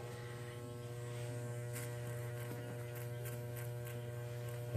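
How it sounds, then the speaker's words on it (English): A steady electric hum and buzz of hair clippers running close by during a fade haircut, with faint intermittent snipping crackles as hair is cut. "you can hear the hair being cut"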